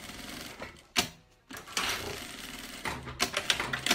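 A sewing machine stitches a bag's lining to its main fabric, running in short, fairly loud bursts separated by brief pauses, with no talking over it.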